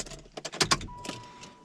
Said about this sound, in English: Keys in.